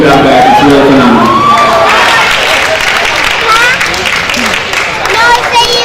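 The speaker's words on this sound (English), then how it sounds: "Let's give one more round of applause for all of our academic awards." An indoor banquet audience applauds academic award winners with sustained clapping, cheering and scattered excited shouts, loud and close, mixed with overlapping voices.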